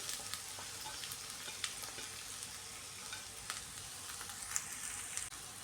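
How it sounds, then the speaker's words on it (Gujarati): Chopped green beans sautéing in oil over medium to high flame, a faint even sizzle and crackle with occasional light stirring ticks, close and alone. "અને આને પણ આપણે સાતળી લેશું તેલમાં 2 મિનિટ માટે"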